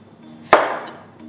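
A single sharp knife chop through a potato on a cutting board, a crisp close thud followed by a brief fading rustle in an otherwise quiet kitchen.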